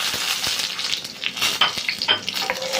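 Garlic and whole red chillies frying in oil for a chana dal tadka, a crackling, spitting sizzle with uneven pops and light stirring clinks, close and moderately loud, no talk.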